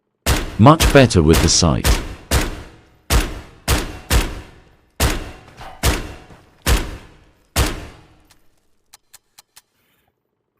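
Video game shotgun from a 12-round boss-armor loadout, fired in a steady series of about eight loud blasts roughly a second apart, each with a sharp crack and short decay, with faint clicks trailing after and a brief voice speaking early.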